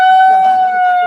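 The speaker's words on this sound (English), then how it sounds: "hold it, and pull that. That's the siren." Handheld electronic siren device giving a steady two-tone electronic wail, loud and close, with faint background voices beneath it.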